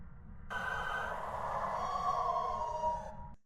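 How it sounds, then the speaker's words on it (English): Phasmophobia video game Banshee scream heard through a parabolic microphone: an eerie, wavering electronic shriek held for about three seconds over a low rumbling hiss, thin and distorted as if distant. "The Banshee has a unique scream that it gives on a paramic that sounds like this."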